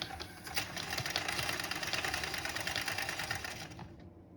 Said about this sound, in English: I'm just gonna start spinning and hopefully it works